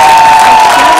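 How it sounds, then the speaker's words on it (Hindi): Studio audience on a Bhojpuri TV dance competition show bursting into loud applause and cheering, a dense, close wall of clapping and shouts with a whistling tone running through it. "हमनी के जोरदार ताली से स्वागत कैल जाई"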